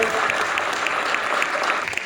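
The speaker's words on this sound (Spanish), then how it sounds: "Está el compañero Propato para que pida un aplauso" Brief burst of audience applause at a workers' talk and book presentation in Argentina, dense and steady clapping from a crowd with some voices beneath.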